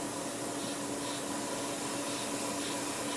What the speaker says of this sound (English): Obviously you can hear the hiss from the air being blown through the airbrush, but the clicking noise is the compressor.